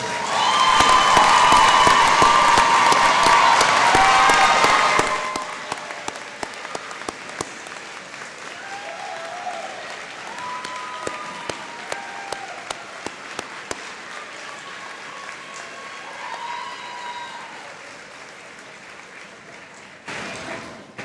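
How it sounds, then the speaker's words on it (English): At a spring university commencement ceremony, a large audience bursts into loud sustained applause with some cheering for graduates' families. After about five seconds it fades into scattered clapping, murmuring crowd noise and a few distant voices. "allow our faculty, staff, and our graduates to applaud you in gratitude"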